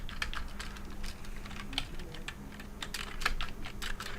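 Fast typing on a computer keyboard while Python game code is entered, a dense run of close, crisp key clicks with uneven rhythm, alone without talk.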